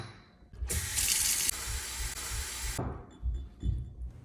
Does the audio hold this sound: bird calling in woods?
no